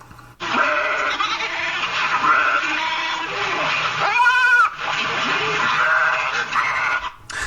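Repeated wavering bleats from sheep, loud and close, several calls in a row with short pauses between them.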